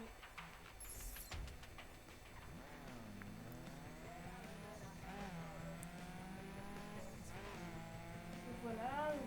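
A car drives in the video game The Crew, its engine pitch sweeping up and down through gear changes, with squeaky tones and light clicks scattered over a steady bed of game sound.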